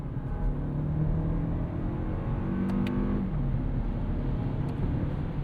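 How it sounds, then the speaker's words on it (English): A Toyota Crown turbo hybrid sedan with a 6-speed automatic accelerates under manual control, giving a steady, close engine drone and rumble with a subtle pitch rise and a brief shift-like dip partway through, with no voices over it. "it'll do like spicy rev matches"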